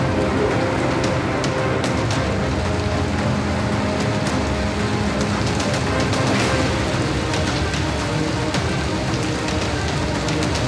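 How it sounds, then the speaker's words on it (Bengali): Heavy rain pours steadily and densely on city streets in Kolkata during a thunderstorm, a constant loud wash of water with no break. "আজ দুপুর থেকে যে তুমুল বৃষ্টির সঙ্গে ঝোড়ো হাওয়া এবং ঘন ঘন বজ্রপাত।"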